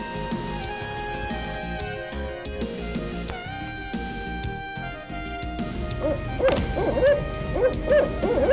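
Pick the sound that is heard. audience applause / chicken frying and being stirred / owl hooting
owl hooting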